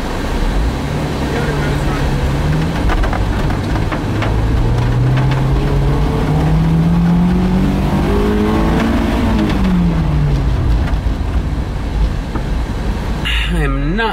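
A car engine climbs a steep San Francisco hill close up, its tone rising as it accelerates and then easing off, steady and loud throughout, with no talk.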